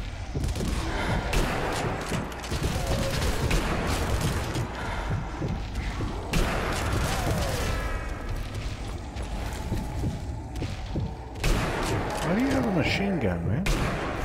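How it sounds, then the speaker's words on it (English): Machine gun fire in a first-person shooter game, dense and continuous throughout, mixed with booming impacts and other game effects and a voice talking over it. "Machine gun, man."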